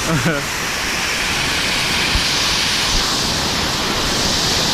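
Water pours down an accidental waterfall in a steady, loud, unbroken roar of rushing noise that fills the scene without pause.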